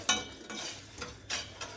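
Spoon stirring 1.5 cups of sugar into a cup of boiling water on a lit stove, with soft repeated scraping strokes over a gentle bubbling hiss, heard close.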